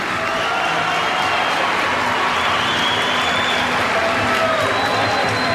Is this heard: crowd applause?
yes